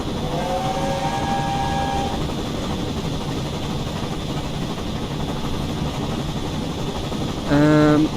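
Miniature railway train at the North Pole Railway working up a 2% grade, a loud continuous rumble and rattle of running gear, with a brief whistle blast near the end and a short tonal squeal near the start.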